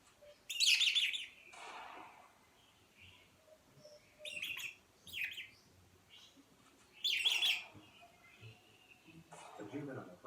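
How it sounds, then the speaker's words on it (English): A juvenile harpy eagle near its parents' nest gives high, thin begging calls in three or four separate bursts over a few seconds, with quieter rustling and faint low sounds in between. "The juvenile harpy eagle hangs around its parents' nest, begging for food."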